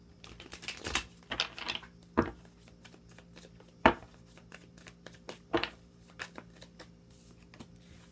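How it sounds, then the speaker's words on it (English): Tarot cards are shuffled in a series of quick riffling bursts and soft taps, close and fairly quiet, with pauses between shuffles. "Let me get one more shuffle."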